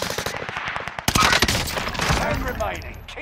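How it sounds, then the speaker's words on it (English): Rapid Call of Duty gunfire, machine-gun bursts cracking in quick repeated volleys, loud and close, with a sharp surge of shots midway and a voice talking under the action. "Shooting."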